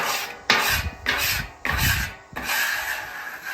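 A grill brick scrubs across a griddle in long, loud abrasive strokes, a close gritty rasping that repeats four times in a steady back-and-forth rhythm with no talking.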